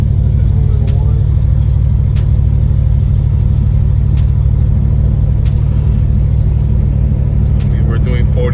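A car engine accelerates from around 45 mph, a loud, continuous low rumble and throaty roar heard from inside, with scattered clicks and a voice talking briefly near the end.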